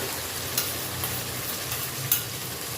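Tomato and cashew paste frying with masala in a pan for aloo dum, a steady close sizzle with a few sharp clicks of a stirring utensil scattered through it.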